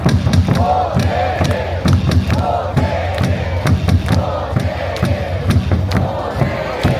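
Baseball stadium crowd at a Hanwha Eagles versus KT Wiz game roars continuously, with loud rhythmic thumping of clappers or drums pounding through a dense wall of cheering.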